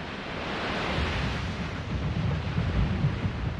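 Heavy surf surges at Bondi Beach during wild weather, with large waves crashing against rocks in a continuous, fairly distant roar and wash of water, no voices.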